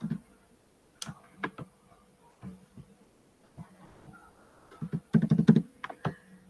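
A computer keyboard with a stuck key is typed on, with scattered sharp clicks and taps, a few isolated at first and then a quick dense cluster near the end, close and clear in a quiet room.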